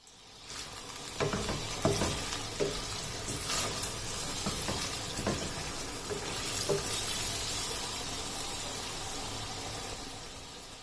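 Whole spices, including green cardamom, black cardamom, black pepper and cloves, sizzle in hot oil for chicken chana dal, a steady soft crackling fry with occasional louder spits and stirring, no talk.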